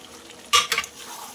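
Meat being stir-fried in a pan for a kosha curry: a brief scrape of a spoon through sizzling food, two quick clattering strokes rising over a low background hiss, close by, with no talk.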